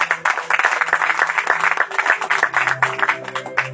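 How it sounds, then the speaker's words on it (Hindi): Church congregation clapping hands in praise, a steady run of dense, fairly rhythmic claps from a group nearby, with faint voices and a sustained tone underneath. "तो आइए हम खुशी ताली बजाते हैं परमेश्वर के लिए।"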